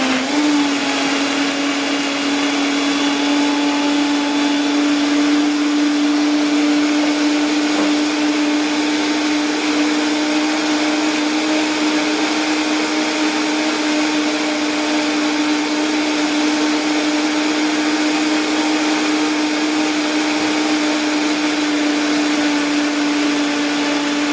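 A blender runs continuously with a steady high whine, blending a non-dairy strawberry smoothie, loud and unbroken with no talk over it.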